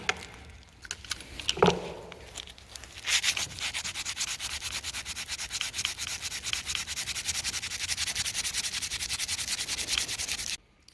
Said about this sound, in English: take aluminum foil and start attacking this rust on your